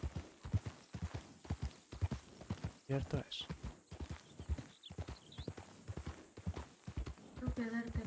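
Horse hooves clip-clop in a steady rhythmic stream in a Wild West video game near Blackwater, with someone talking in Spanish over them.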